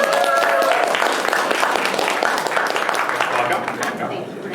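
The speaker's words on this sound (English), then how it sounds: "Let's give her a round of applause." Crowd applause at an entrepreneur speaker series event, welcoming the founder of a fine cheese business. Dense, loud clapping fills the room from the start and eases slightly toward the end.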